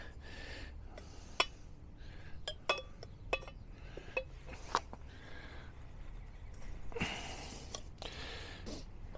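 A screwdriver prying a seal out of an RV wheel hub during a bearing job, sharp metallic clicks and scrapes scattered over a quiet background, with a longer grinding scrape near the end.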